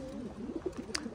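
Racing pigeons in a loft give soft, low cooing calls, several overlapping coos repeated close by with a brief higher chirp near the end, no talk.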